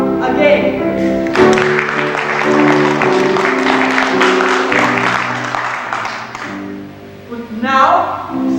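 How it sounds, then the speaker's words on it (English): A theatre audience at a Sound of Music stage performance breaks into sustained applause for the Von Trapp family, a dense, even clapping that swells after a sung passage, with music and voices around it. "let's applaud the family Von Trapp again"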